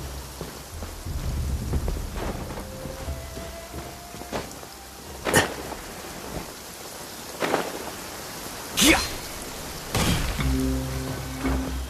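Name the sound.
rain and thunder in the video game Genshin Impact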